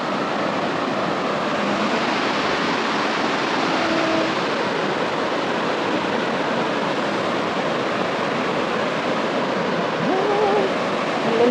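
A waterfall roars in a steady, dense wash of falling water reached after a two-hour hike, close and loud throughout without a break.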